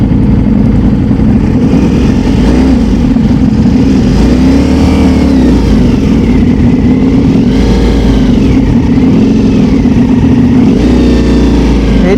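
Motorcycle engine straining on a steep uphill road and rolling backward, a loud, continuous close-up drone with wavering pitch and revving surges throughout.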